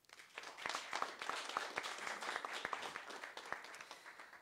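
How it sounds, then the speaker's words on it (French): Sparse, fairly distant applause from a small audience at a Quebec helicopter-industry careers event, individual hand claps standing out in an uneven patter that swells and then thins. "j'aimerais qu'on l'applaudisse"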